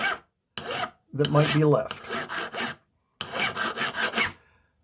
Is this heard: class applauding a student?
no